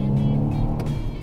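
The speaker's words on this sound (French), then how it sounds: "Alors une sonorité moteur, c'est un peu plus rauque que le M135i." Low, throaty engine note of a BMW M235i Gran Coupé, a steady raspy drone heard from inside the car with a slight rise and fall, loud and close.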